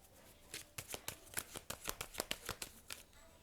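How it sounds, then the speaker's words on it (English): Cards riffle and snap in quick succession as someone shuffles an activation card deck and pulls a card, a close, quiet run of crisp flicks with no talk. "I'm gonna pull a card from the activation card"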